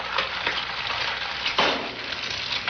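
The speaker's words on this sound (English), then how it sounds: "That sizzling egg in the frying pan wasn't trying to sell us a product" An egg fries in a hot pan, giving a steady, close crackling sizzle that carries through the whole stretch with a brief louder spurt partway, and no voices over it.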